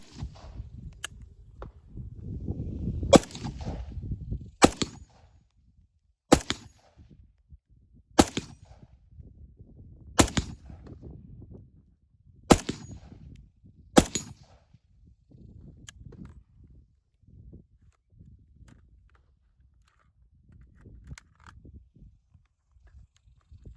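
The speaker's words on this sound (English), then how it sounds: "press the release, rock out, rock in, replace, remount, and you are now ready to fire again." AK rifle magazine being released, rocked out and a fresh one rocked in and seated, heard as a string of sharp, close metallic clacks and clicks spaced a second or two apart, with quieter handling noise between.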